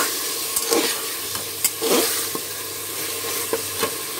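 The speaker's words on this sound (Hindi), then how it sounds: "इसे भी डाल के मिक्स कर देंगे।" Mutton and ginger garlic paste are stirred together in a hot pan: a constant loud sizzle with intermittent scrapes and knocks of the spoon, close up and without voices.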